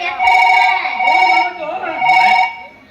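An electronic phone ringtone trills in repeated bursts during a stage play, loud and close, with short pauses between rings.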